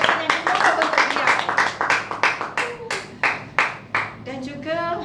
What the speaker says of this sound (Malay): Sila beri tepukan yang gemuruh untuk dia.